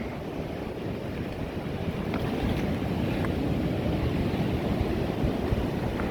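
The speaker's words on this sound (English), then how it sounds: "the waves come in and give us wet feet" Ocean waves wash steadily onto a beach in Portugal, a continuous rushing surf with wind noise buffeting the microphone, moderately loud and unbroken.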